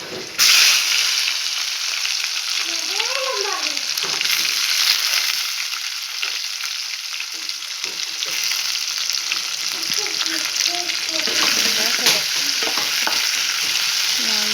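Chopped onion fries in hot oil with bay leaves, giving a close, steady sizzle with repeated scraping stirs of a spoon in the pan and no talking.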